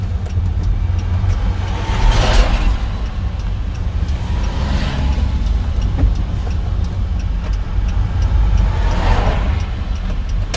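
A car engine hums low and steadily during a Korean class 1 driving licence test, close and continuous, rising slightly in a couple of places, with no talk over it.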